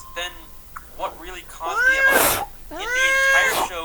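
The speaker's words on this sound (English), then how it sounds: "Sorry about my cat." A cat meows repeatedly with drawn-out, rising and falling calls, mixed in with a person talking over it in an indoor setting.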